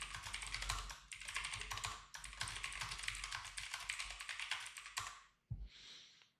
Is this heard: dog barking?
no